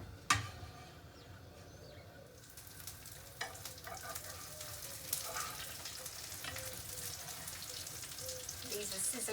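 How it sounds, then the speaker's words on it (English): Steady crackling sizzle of potato cakes frying in hot cooking oil over medium heat, continuous and close, with a few clinks of a utensil in the pan. "These are sizzling away on sort of a medium heat."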